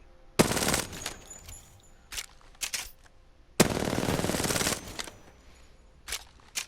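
Rapid automatic weapon fire in the video game Apex Legends, two long sustained bursts with a few short shots between, loud and close with no talking.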